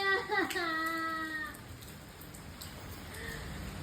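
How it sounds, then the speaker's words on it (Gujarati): Rain falls as a soft, steady hiss that takes over after a voice speaks briefly at the start. "વરસાદ આવે મમ્મી."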